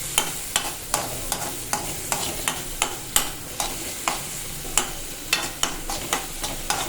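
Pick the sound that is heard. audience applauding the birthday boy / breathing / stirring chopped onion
stirring chopped onion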